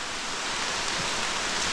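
Steady, dense rain falls in a forest, a continuous even hiss with no pauses and no voices heard.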